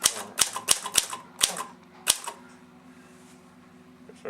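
Key strikes from a vintage Commodore typewriter, a quick burst of six crisp, loud clacks in the first two seconds, then a quieter mechanical hum with faint rattles, heard up close without speech.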